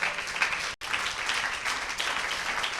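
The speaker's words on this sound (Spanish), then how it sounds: "Denle un fuerte aplauso a Jesucristo." A church congregation gives steady, dense applause during a Spanish-language service, a full wash of clapping with one brief break in the middle and no talking.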